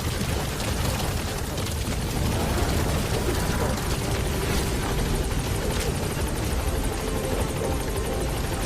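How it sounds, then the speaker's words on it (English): A support helicopter in the video game Metal Gear Solid V arrives with a loud, steady rotor drone and broadband engine roar filling the whole clip, with no speech over it. "Support helicopter has arrived."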